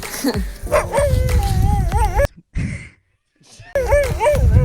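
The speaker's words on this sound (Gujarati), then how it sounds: "કૂતરો ભસે છે" A dog barks and yips loudly and close by beside the dry Banas riverbed at Juna Deesa, with voices talking over it, then a brief pause before more barking resumes.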